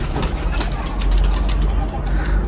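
Pigeons coo in a loft where the birds are kept day and night, their soft calls blending into a dense, noisy background with a voice talking over them throughout.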